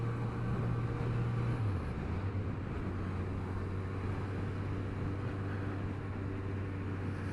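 Kawasaki Z900RS motorcycle pulling away in fifth gear from low speed, a steady low exhaust drone with a tone that dips and settles, heard close and continuous under wind noise.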